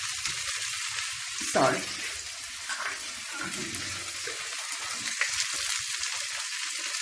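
A snack of atta flour and peas fries in a pan over low heat, a soft continuous sizzle with occasional stirring scrapes, while a voice speaks briefly over it.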